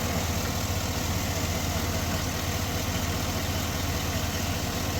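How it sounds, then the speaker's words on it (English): A GM L92 V8 engine in a Yukon, Tahoe or Escalade-type truck idling high on its own, a loud, steady, even drone with no throttle changes and no talk. "It'll be idling high, like without doing anything."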